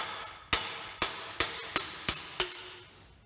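Six sharp metallic hammer strikes drive a headset cup into a vintage road bike frame, close and evenly spaced about half a second apart, each ringing briefly before fading.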